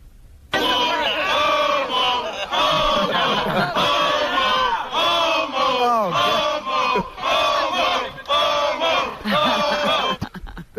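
A loud crowd jeers and heckles in repeated bursts of shouting and chanting voices, rising and falling in waves over about ten seconds, close and overwhelming.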